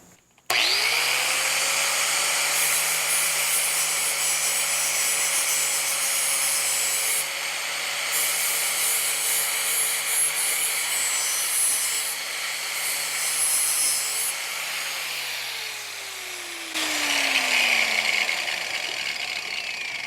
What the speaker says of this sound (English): let's sharpen up that blade